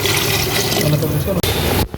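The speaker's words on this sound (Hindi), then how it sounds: "इसमें अब पानी ऐड करने लगे। ये 1 किलो हमारा पानी ऐड हो गया।" Water pours steadily and loudly into a cooking pot for Hyderabadi chicken aloo pulao, about one kilogram added after frying the ingredients, a continuous splashing rush that cuts off abruptly near the end.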